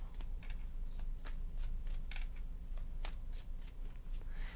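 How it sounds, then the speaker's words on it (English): Tarot cards being shuffled by hand in a quick series of crisp riffling and slapping bursts, close and fairly quiet, with no talking. "3 shuffles."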